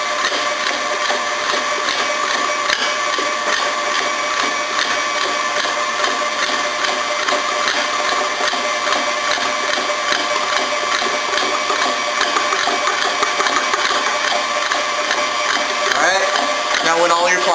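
An electric mixer beats eggs and flour for a mille-feuille, a steady, close mechanical whirring with a busy rattling texture that runs unbroken throughout.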